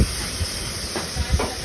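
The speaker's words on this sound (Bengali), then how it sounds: "পেঁয়াজগুলো ভাজার পর এখন ছোলাগুলো দিয়ে দিচ্ছি।" Chickpeas hit a pan of fried onions and oil with a brief, close, hissing sizzle, with a few soft pops and clatters.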